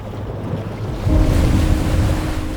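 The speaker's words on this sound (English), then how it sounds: "I am the wave." Ocean waves breaking and rolling in, a continuous broad wash of surf that swells louder about a second in and stays steady, with some wind rumble against the microphone.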